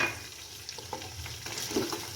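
Beef frying in a pan with ginger garlic paste, giving a close, moderate sizzle broken by a few soft stirring scrapes and small pops, no voices.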